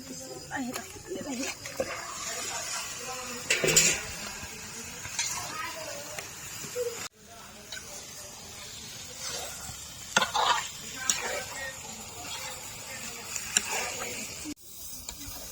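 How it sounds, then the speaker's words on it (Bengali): Chicken goes into a pot of spices already fried down for khichuri. Sizzling and scattered stirring clatters run underneath, while people talk over most of it. "মশলাটা আমাদের কষানো হয়ে গেছে, এবার চিকেনটা দিয়ে দিব।"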